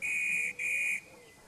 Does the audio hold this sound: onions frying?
no